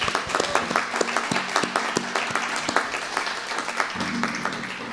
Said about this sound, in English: Let's have a round of applause for Randy Scott.